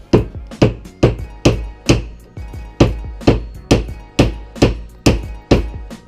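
Repeated hammer blows on a Volvo 740 part, about a dozen loud metallic thuds struck in a steady rhythm roughly every half second, close and prominent with no talking.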